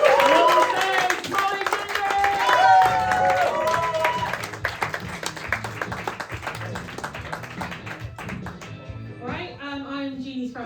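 Applause and clapping from a comedy club crowd in Bath greeting the next act, a dense wash of hands with murmuring and voices mixed in, tapering off toward the end.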